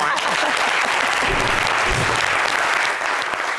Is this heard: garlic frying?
no